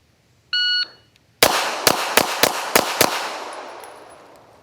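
CZ Shadow 2 pistol firing a bill drill at a shooting range: a short electronic beep from the shot timer, then six sharp, loud shots in quick succession, each with a ringing echo that fades out.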